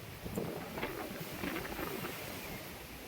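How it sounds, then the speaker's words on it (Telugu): Strong, steady rushing wind at a beach in Pattaya, Thailand, buffets the microphone, a broad continuous roar with gusty swells throughout, no voices. "ఎంత గాలి ఉందో చాలా ఫుల్ గాలి ఉంది"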